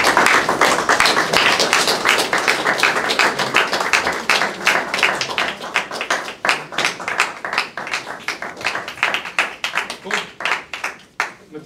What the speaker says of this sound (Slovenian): Evo, en aplavz za vse skupaj.